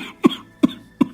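An old man coughing three times in a steady rhythm, each cough a short, sharp, close burst separated by brief pauses.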